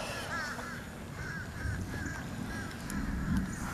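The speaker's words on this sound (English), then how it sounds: "Lots of birds flying over." Crows in a flock caw repeatedly as they fly over outdoors, their harsh calls fairly distant and layered over steady background noise.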